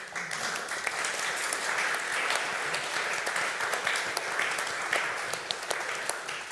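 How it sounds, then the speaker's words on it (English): Sustained applause from a crowd, dense and even clapping that continues at a steady level throughout. "And clapping."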